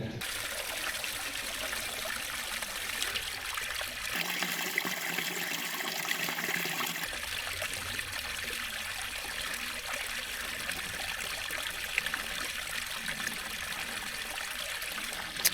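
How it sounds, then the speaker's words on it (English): Small stream of water trickling and splashing steadily over rocks in the Finnish countryside during a midsummer coastal hike, a continuous close babble with no voices. "Now this is water."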